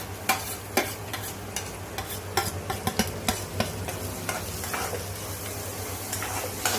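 Carrot and cashews crackle and sizzle in a pan while a spoon stirs and scrapes them in quick, irregular knocks over a low steady hum.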